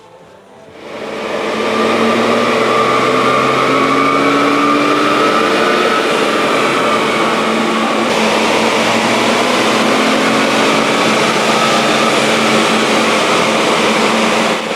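A Daihatsu mini truck fitted with a cheap Temu supercharger revs hard on a dyno, its small engine climbing into a loud, steady high-pitched drone with whining harmonics that holds for over ten seconds.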